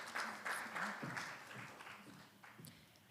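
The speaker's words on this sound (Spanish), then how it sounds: "Un fuerte voto de aplauso" Applause from a panel audience at an arbitration conference in Panama, moderate and fairly steady for about three seconds before thinning out, with a few louder claps near the start.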